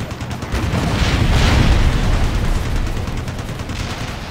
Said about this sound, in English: Firing guns.